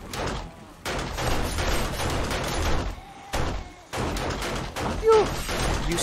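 Rapid gunfire bursts in the zombie survival game 7 Days To Die, with dense volleys of shots cut by short pauses and an abrupt thud near the end.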